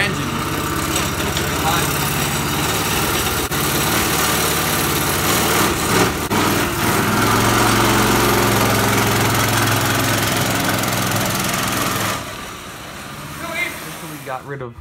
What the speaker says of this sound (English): This is the 3rd engine